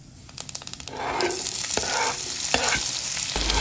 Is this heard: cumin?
yes